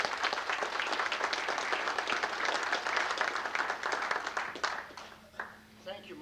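Audience applause from a Rotary Club gathering on Memorial Day, a dense, steady clapping that fills most of the stretch before thinning out and tapering into scattered claps near the end.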